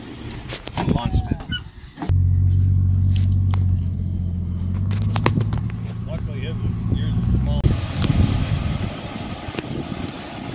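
A stuck Jeep TJ's engine revs in a loud, sustained droning rumble as a wheel spins in loose ground, with people talking before and after the revving.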